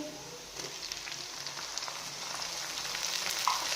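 Arbi and potatoes fry in a pan with tomatoes, giving a steady close sizzle with faint stirring scrapes and crackles and no voices.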